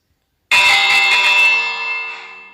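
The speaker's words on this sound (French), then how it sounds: "Attends, je vais vous faire écouter la cloche." A loud house bell in a video game rings once with a bright, metallic chime, sustaining and slowly fading over two seconds after a silent start.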